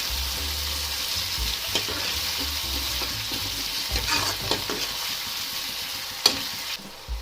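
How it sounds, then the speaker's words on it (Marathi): Tomato and chopped spinach sizzle and fry in a pan while a spoon stirs them, giving a steady close hiss broken by irregular scraping clicks, with no talking. "मिक्स करूया।"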